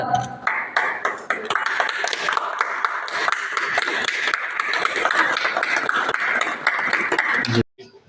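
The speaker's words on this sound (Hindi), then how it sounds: "ताली से स्वागत।" Dense clapping from a crowd gathered for a library inauguration in Khoajpur village, Patepur, sustained for about seven seconds with scattered sharp taps and pings before stopping abruptly.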